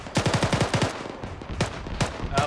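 Bursts of rapid automatic gunfire in a military simulation video game: a quick string of close shots, then scattered single and paired shots with a sharp crack and short echo.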